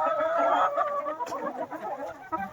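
Hens in a backyard coop clucking and murmuring close by, a busy overlapping chatter that runs steadily with no talk over it.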